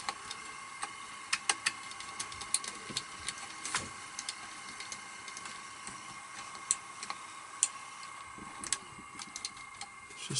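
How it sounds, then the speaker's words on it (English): The rewind mechanism of a Sanyo Betacord VTC-1000 Betamax deck skips and spins when rewind is pressed in play mode, giving faint whirring with irregular, close mechanical clicks and ticks scattered across the whole stretch. "when it's in play mode, if I press rewind, it's just skipping, just spinning"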